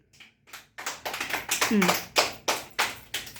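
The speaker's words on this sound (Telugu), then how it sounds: "క్లాప్స్ కొట్టాలి ఆంటీకి." Children at an anganwadi clap their hands for a child in quick bursts of claps, with a voice speaking briefly over them.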